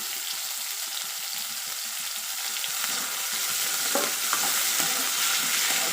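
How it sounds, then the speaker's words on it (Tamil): Tomatoes and curry leaves sauté in a pan for sambar, a steady close sizzle and hiss with scraping stirs that grows slightly louder toward the end, no speech. "இதை போட்டு நல்லா வதக்குவோம்"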